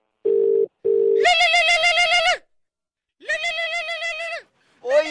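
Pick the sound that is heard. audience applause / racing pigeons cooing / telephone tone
telephone tone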